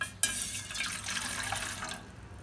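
About a glass of water poured into a cooking pot to be boiled for cilok dough: a brief, close, splashing stream that starts abruptly and runs for about two seconds before cutting off.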